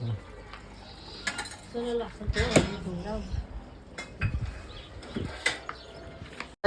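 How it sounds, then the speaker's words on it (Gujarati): Dishes being washed by hand in a home kitchen give off intermittent clinks and clatters of utensils and pots, with a voice speaking briefly over the clatter. "મમ્મીને વાસણ ધોઈ દેવા"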